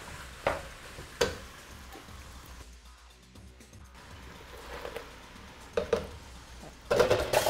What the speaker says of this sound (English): Black olives, give that a quick stir, and then your spinach, and you just want it to sweat